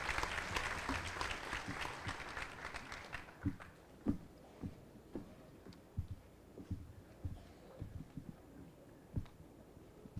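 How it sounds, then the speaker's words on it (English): Graduation ceremony audience applauds in a large hall, a dense wash of clapping that fades after about three seconds into scattered, isolated claps spaced across the rest of the clip. "Please join me in another round of applause."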